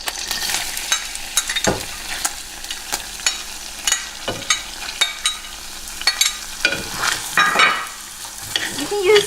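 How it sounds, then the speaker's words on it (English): Shallot and garlic frying in hot oil for Vietnamese caramelized pork belly, a crackling sizzle broken by repeated sharp clicks and scrapes of a utensil against the pan, close and uneven, no talk. "after the oil is heating up, I'm going to add in my shallot and garlic"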